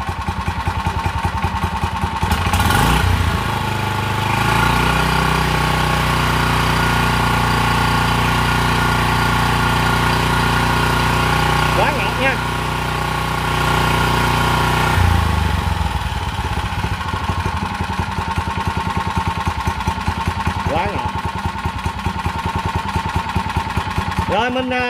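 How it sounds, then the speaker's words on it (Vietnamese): A nearly new Japanese Honda water pump engine runs close by, giving a loud, continuous idling drone with a brief shift in pitch around the middle. Voices are faintly heard over it now and then. "Rồi mình xin test máy luôn cho anh em xem nha, để anh em nghe tiếng máy nổ nha."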